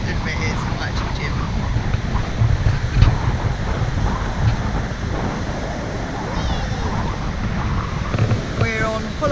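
Wind gusts and breaking surf on Holloway's Beach in Australia, a steady roar of waves and microphone wind buffeting, with people talking briefly over it.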